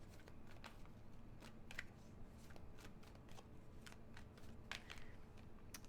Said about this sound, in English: This deck is hard to shuffle, so sorry guys.